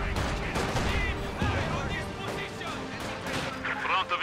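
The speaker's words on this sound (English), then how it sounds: "Another barrage! They have zeroed us in!" In the video game Company of Heroes 2, an artillery barrage and gunfire crack and rumble in rapid bursts, with shouted in-game voices talking over the explosions throughout.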